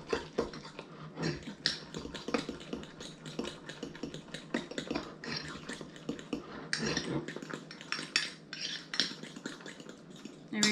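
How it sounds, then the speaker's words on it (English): A spoon stirs mocha frappuccino mix in a cup or bowl, producing quick, irregular clinks and scrapes in a steady rapid rhythm, close and fairly quiet, with no talking. "Mix it all up."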